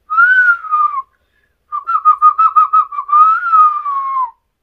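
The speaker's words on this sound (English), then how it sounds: "I can whistle when I want to whistle." A person whistles a close, clear tune in two phrases separated by a brief pause, with a run of quick trilled notes in the second phrase, heard alone.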